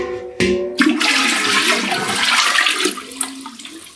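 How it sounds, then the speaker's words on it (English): Water drained from an old toilet fill valve is poured into the toilet bowl, a sudden close splash followed by a few seconds of sloshing, gurgling flow that trails off. "discharge the water just by dumping it in the bowl"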